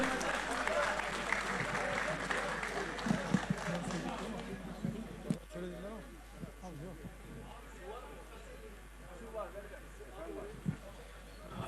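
An audience at a Malatya promotion-day event applauds to welcome the Malatyaspor club president to the microphone, clapping strong at first then thinning into scattered claps as voices and movement take over.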